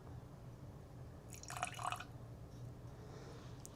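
A drink poured into a glass, a brief liquid trickle with a few bright clinks lasting under a second, quiet and close over a low steady room hum.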